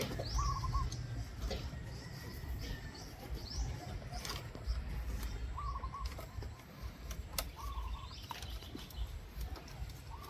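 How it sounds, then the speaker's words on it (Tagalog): Birds call repeatedly at a distance on a farm, short chirps and coos recurring over a steady outdoor background hum. "May ibon guys oh."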